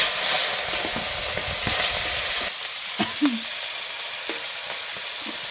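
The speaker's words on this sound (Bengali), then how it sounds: "তেলটা আমার গরম হয়ে গেছে। এখন আমি ল্যাঠা মাছগুলো দিয়ে দেবো।" Snakehead fish fry in hot oil for a curry, a loud continuous sizzle and hiss close by, easing slightly partway through, with a few small spits and bubbling pops.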